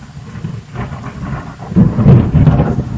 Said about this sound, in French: Il vient d'avoir un gros éclair là juste à l'instant.